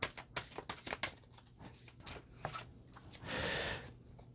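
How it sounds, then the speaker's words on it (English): Stiff, oversized tarot cards are shuffled with quick riffling flicks and soft taps, followed by a brief crinkly rustle, close and quiet. "These cards are a little tricky to shuffle because they're so big"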